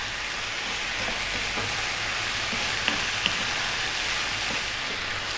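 Chicken and tofu sizzle in a hot pan while being stirred, giving a steady close crackle with a few sharp clicks of the utensil against the pan and no talking.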